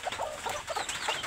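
Desi hens cluck softly amid their chicks on a farm during rain, a series of short, irregular clucks close by against a steady hiss of background noise.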